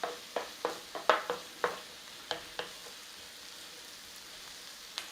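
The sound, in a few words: onions frying in a pan with salt and pepper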